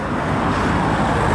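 Road traffic in Reykjavik, a dense, steady rumble and hiss of passing cars close by, loud and unbroken for the whole moment.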